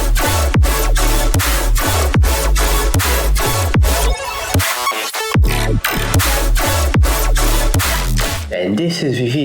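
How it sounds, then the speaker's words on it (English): A heavy colour bass drop in electronic music, with punchy kicks pulsing on a steady beat under thick, wobbling synth bass and bright chords, loud and continuous, with a brief breakdown near the middle. "If you're wanting to make a heavy color based drop that sounds like this"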